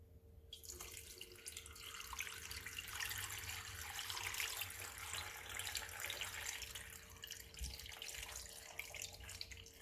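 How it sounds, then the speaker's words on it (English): Milky lime waterglass solution, one ounce of lime to a quart of water, pours steadily from a container over eggs in a jar, making a continuous soft splashing gush, close and alone. "Now I'm just going to pour it over my eggs."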